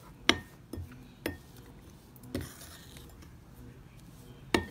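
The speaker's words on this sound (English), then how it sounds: "you are going to start mixing the baking soda with hair conditioner" A spoon stirs baking soda and hair conditioner in a bowl, with scattered sharp metal-on-dish clinks and scrapes at irregular intervals and soft squishing between them, close and moderately loud.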